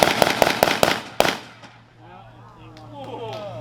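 Rapid shots from an M1 Garand rifle at an outdoor ammunition demonstration: five or six sharp, loud reports in quick succession, then a low hum and people talking faintly afterward.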